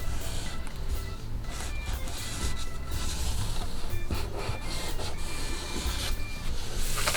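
Pen or chalk tracing around a trouser pocket pattern master on fabric, a continuous close scratchy rubbing with small uneven strokes and no pauses.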